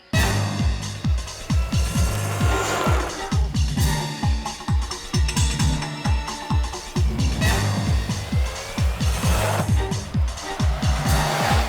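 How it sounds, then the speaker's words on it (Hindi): A car racing during a TV crime-drama chase, a loud close engine roar that rises and falls throughout with rapid rhythmic pulsing and tire noise. "माया जल्दी चलाओ, सीआईडी वाले हमारे पीछे हैं।"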